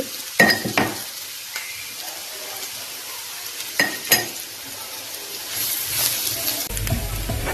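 Meat masala for mutton curry frying in a pan while being stirred, with a steady sizzle, sharp metallic spoon knocks against the pan and a rising hiss toward the end.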